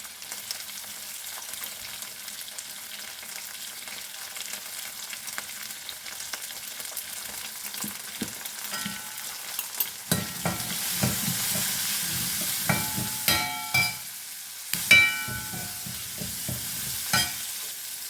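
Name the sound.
green chillies frying and being stirred in a pan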